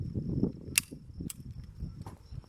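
Sharp pistol shots from a Smith & Wesson M&P 2.0 Competitor at an outdoor range, a few distinct cracks spaced irregularly over a low murmur of background noise, with a faint steady high whine throughout.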